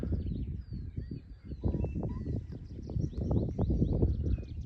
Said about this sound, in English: you can hear all the birds better than that